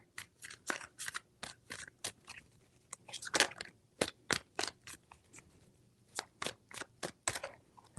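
Tarot cards are shuffled in a quick series of crisp riffling snaps and flutters, about two dozen sharp bursts spread irregularly, close and quiet with no voices.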